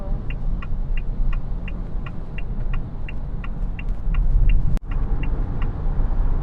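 An ORA Good Cat electric car accelerates in sport mode, a steady road rumble with faint regular high ticks, swelling near the end before a sharp click.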